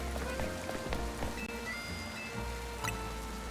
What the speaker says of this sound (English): When we get rained on.